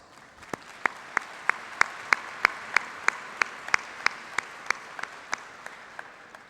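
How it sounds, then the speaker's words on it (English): At a college convocation ceremony, sharp, evenly paced claps ring out over a softer bed of distant applause, with one or a few pairs of hands clapping steadily for over six seconds with no talk. "And I think that deserves a huge applause"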